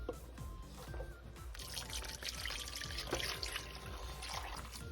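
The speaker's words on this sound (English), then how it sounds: "Rico has a gallon of water, so which he's just going to pour slowly into this pot." A gallon of water poured slowly into a soup pot, a steady trickling splash running continuously and fairly close, with a light hum beneath and no talk.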